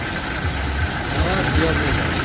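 A Mercedes car engine idles steadily with a low rumbling hum, while a voice talks over it.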